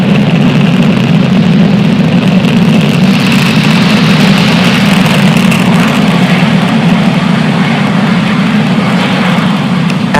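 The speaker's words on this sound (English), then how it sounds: "Falcon 9 has successfully lifted off from Slick 40 carrying the Turksat 6A satellite." A SpaceX Falcon 9 rocket's engines roar after liftoff from Space Launch Complex 40 in Florida, a loud, continuous low rumble that holds steady throughout with no voices.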